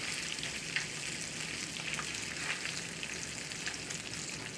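Pork frying and being stirred in a pan with cabbage, a steady close sizzle with soft scraping stirs rising now and then, no talk.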